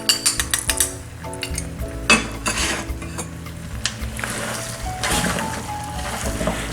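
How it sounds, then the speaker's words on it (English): Nkwobi being stirred in a pot with crayfish, utazi and Maggi, a spoon clattering and scraping against the metal in repeated close strokes with a few sharper knocks, loud and alone without talk. "So you give this a good stir for everything to mix again thoroughly"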